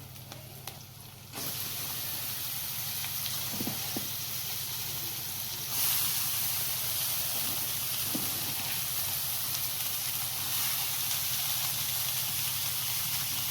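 Washed peas and cauliflower drop into a hot pan, setting off a sudden sustained hiss and sizzle that swells again midway, with a couple of soft knocks under it.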